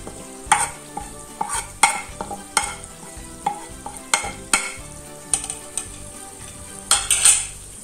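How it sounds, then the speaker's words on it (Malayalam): Green chillies and chilli powder fry in a pan for chilli garlic chicken while a spoon stirs them, making repeated sharp scrapes and clanks in an uneven rhythm over a constant close sizzle. "ഇത് നന്നായി പച്ചമുളക് മാറുന്ന വരെ ഇളക്കി കൊടുക്കാം."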